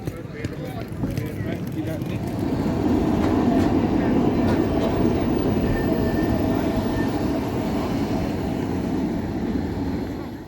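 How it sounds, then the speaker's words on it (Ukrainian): Retro trams run along a street in Budapest, with a continuous rumble of wheels on rails that swells over several seconds and stays steady and fairly loud. "курсують старі трамвайчики"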